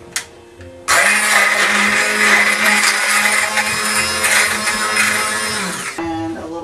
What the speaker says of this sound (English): now I'm just going to give it a blitz until it's all smooth